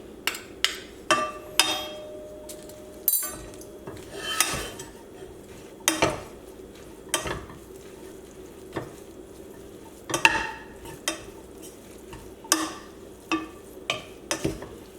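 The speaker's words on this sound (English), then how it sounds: "Make sure you mix it and combine it fully so all the pasta and the kale is covered with the oil and the mascarpone cheese" Pasta and kale stirred with oil and mascarpone cheese in a pan, scattered clinks and scrapes of a utensil against metal with a soft sizzle underneath, irregular and fairly close.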